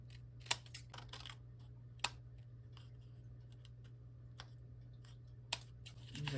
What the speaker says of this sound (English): I'm just gonna roughly cut.